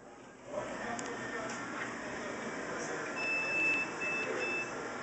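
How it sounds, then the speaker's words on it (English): A few thin, high electronic beeps from a Hydro Thunder arcade machine sound in short bursts at a moderate distance over a low, steady background hum. "Now it beeps like there's a problem"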